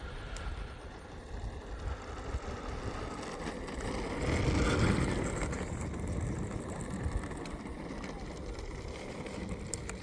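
An E-flite Viper 90mm RC jet taxiing on the ground, its ducted fan giving a steady broadband rushing roar that swells briefly partway through before settling back to a constant level.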